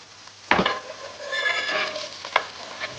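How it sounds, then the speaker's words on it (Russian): Onion sizzles as it fries in oil in a pan, interrupted by a couple of sharp utensil scrapes and clinks as it is stirred; no voices. "И начнем жарить наш лук в этом же масле."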